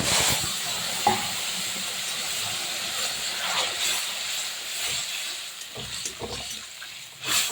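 Fish curry with radish and beans is stirred in a pan over a soft steady sizzle, with occasional scrapes and knocks of the spoon against the pan.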